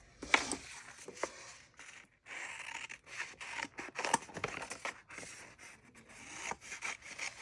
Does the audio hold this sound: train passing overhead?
no